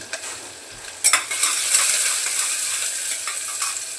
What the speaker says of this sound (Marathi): कुकर गरम आहे. लगेचच लसूण लाल झालं आहे.